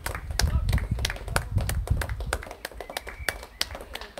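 Sharp, close handclaps ring out irregularly outdoors during the coronavirus lockdown, with scattered distant claps and low background rumble beneath.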